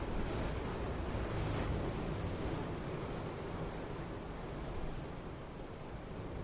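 Ocean waves and wind sweep past seaside cliffs in a steady, full roar of surf and gusting air, continuous for several seconds with no voices.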